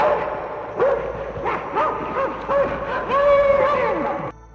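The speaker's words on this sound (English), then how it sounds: "all 37 dogs had been brought to the still uncompleted corral near the camp, and even at that distance, set up a savage barking and show of restlessness" Several dogs bark and yip in a restless chorus near a camp corral, overlapping excited barks and whines rising and falling for several seconds at moderate distance, no talking.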